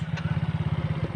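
A motorcycle engine idles on a muddy road with a fast, even chugging pulse. It sits close and steady throughout the short stretch, with no voices.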